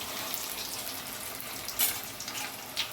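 Ginger garlic paste frying in oil in a pan for mutton pickle, a soft, steady sizzle heard close and fairly quiet, with a couple of brief stirring clicks.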